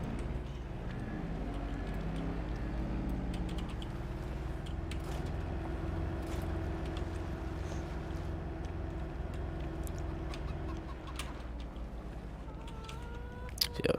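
A Gator utility vehicle drives along a farm track on a morning chore run, its engine making a steady low rumble and drone the whole way through, with no talking.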